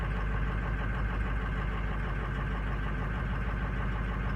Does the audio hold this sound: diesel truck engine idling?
yes